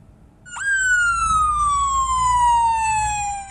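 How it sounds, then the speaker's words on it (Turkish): A police siren in a wedding convoy with police and gendarmerie vehicles wails steadily in a long, slowly falling tone, loud and close, over a low rumble of traffic. "Sirenler çaldı polis ve jandarma araçları düğün konvoyunda yer aldı."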